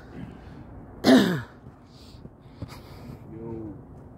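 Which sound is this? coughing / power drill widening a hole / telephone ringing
coughing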